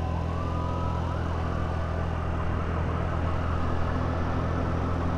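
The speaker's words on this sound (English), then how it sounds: "we'll see if this ambulance keeps going this way" A distant ambulance siren wails faintly beneath a loud, steady drone of traffic and engine noise from a Honda Navi ridden in winter in Louisville, Kentucky, continuing throughout.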